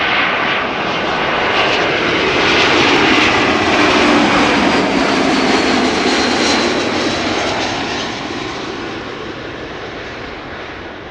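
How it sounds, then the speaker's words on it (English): A Finnair Airbus A321 arriving from Helsinki roars past close by as a loud, steady jet engine rush that swells to a peak and then fades away, with no talk over it. "Finnair arriving from bloody Helsinki. A321."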